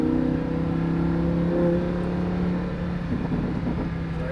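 A Lamborghini Huracan engine on a racetrack holds a loud, steady droning note under throttle, easing slightly toward the end with no voices over it.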